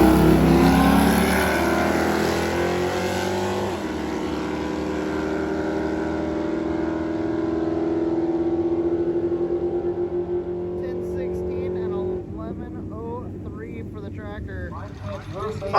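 Drag race cars at the strip, including an LS-swapped Geo, roar loudly with a sustained, throaty engine drone that shifts pitch and then fades as they pull away.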